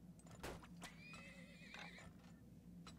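A video game horse whinnies in a rising, wavering neigh, with hoof clip-clops and a few sharp knocks around it, fairly faint overall.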